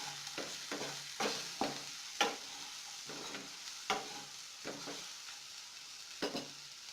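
A spoon stirs Maggi masala ingredients in a pan, scraping in repeated strokes over a steady background sizzle of frying, close and clear with no talk.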